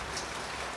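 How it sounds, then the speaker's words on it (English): Steady patter of rain falling outdoors, an even hiss of drops with no distinct individual hits and no voices. "I bet you can probably hear the rain in the camera"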